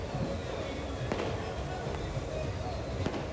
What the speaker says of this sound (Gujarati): અહીંયા બધી ચારે બાજુ ફૂટ જ કરે ફટાકડા.